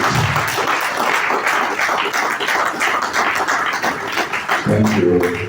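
Scattered audience clapping at a NIESV Lagos branch professional training programme, fairly thin and uneven, with a voice breaking in near the end.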